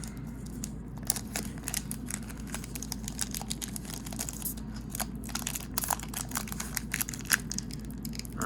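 A plastic blister pack of Silver Tempest trading cards is struggled with up close, giving quiet, irregular crinkling, crunching and tearing sounds over several seconds with no talk.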